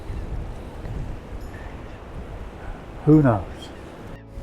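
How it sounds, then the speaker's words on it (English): Strong wind gusts over open water at a pike fishing lake, steady buffeting roar throughout with a brief louder blast near the end; a person speaks briefly. "Now that's a serious bit of wind coming in now."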